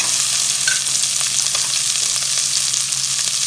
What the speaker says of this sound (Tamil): வெங்காயம் போட்டுக்கிறோம்